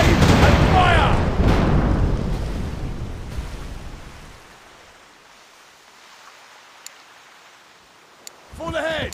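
Ship cannon fire in The Pirate: Caribbean Hunt during a naval PvP battle with HMS Victory, a heavy booming volley rolling off into a long fading rumble amid sea ambience, with a shouted voice near the start and end.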